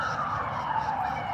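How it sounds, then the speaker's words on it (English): An ambulance siren wails as the vehicle drives past on a street, a steady mid-pitched tone heard at moderate distance over low traffic rumble. "Ambulance just drive past."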